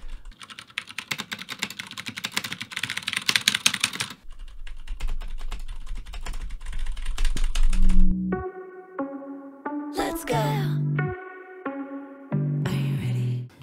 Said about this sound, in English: bang away on keys on my keyboard